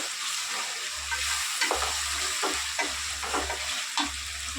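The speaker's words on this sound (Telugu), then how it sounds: "ఒక స్పూన్ అల్లం పేస్ట్ ఫ్రై వేసుకున్నాము" Ginger paste fries in hot oil with tomatoes for a fish curry, a loud steady sizzle with repeated scraping stirs of a spoon against the pan, close and without talk.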